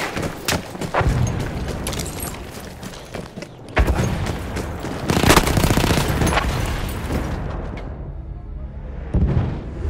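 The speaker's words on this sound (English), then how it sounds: "Are being halted by our artillery barrage." An artillery barrage in Battlefield 1 pounds away with heavy booms and rolling gunfire, loud and dense in several waves, dipping briefly before more blasts crash in and a final thump lands near the end.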